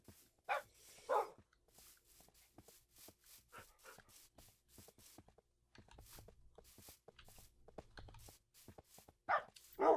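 Dogs in Minecraft barking in short repeated yips and woofs, several overlapping bursts spread through the stretch at moderate loudness, with no talking.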